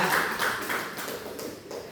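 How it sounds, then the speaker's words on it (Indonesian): Audience in a classroom gathering clapping hands together, a brief patter of scattered claps with a soft, close roomy tone lasting about two seconds. "tepuk tangan dulu Bapak Ibu"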